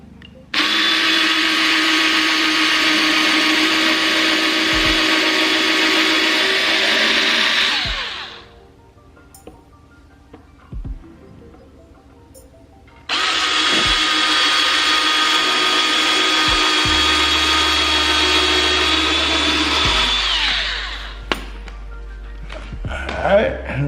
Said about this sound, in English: This is gonna be the pilot hole. This is where the screws are gonna go.